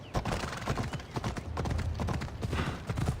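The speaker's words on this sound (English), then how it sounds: "I need to take this horse to either Adonis or to the stable boy" Horse hooves clip-clopping in the Assassin's Creed Odyssey video game, a steady rapid trot of close, crisp hoofbeats over a low rumble, continuing throughout.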